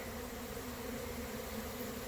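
A steady, close buzzing drone of honey bees robbing a hive, the hum holding even and unbroken throughout with no voices.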